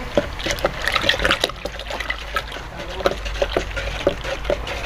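Water trickles and splashes as it is poured into a lime wash (asvesti) paint mix, a steady near liquid pour with small sloshing bursts and no talk.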